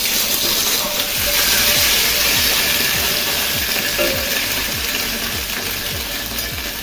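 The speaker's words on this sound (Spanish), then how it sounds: "lo que vamos a hacer es simplemente darle un sellado de un lado y del otro para que quede bien crocante" Pork matambre seared in a hot pan sizzles loudly and steadily, a dense crackling hiss that fills the whole stretch with no pause.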